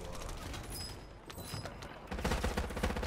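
Bursts of rapid gunfire in Call of Duty: Warzone, scattered shots at first and then a louder, denser volley of automatic fire near the end.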